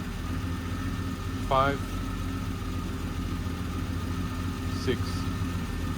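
A 1970 Triumph TR6 engine idles with a steady low rumble, one cylinder misfiring because of slightly fouled spark plugs, while a man counts aloud over the running engine.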